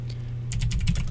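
Rapid clicking of a computer keyboard while someone types into an online game chat, close and crisp: a quiet pause, then a quick burst of keystrokes.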